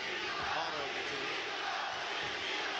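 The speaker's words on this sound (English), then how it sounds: "Crowd begins to set up a chant." Boxing arena crowd at a Michael Carbajal vs Humberto Gonzalez bout, a dense continuous roar of many voices rising into a chant, fairly distant and steady throughout.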